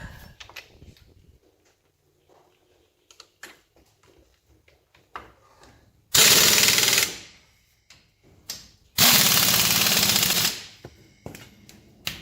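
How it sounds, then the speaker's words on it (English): Two loud, sustained bursts of a pneumatic impact wrench working on front brake parts of a 2000–2004 Ford F250 Super Duty 4x4, each rattling hammer burst lasting over a second, between quieter clanks of tools. "you put the impact in the wrong direction"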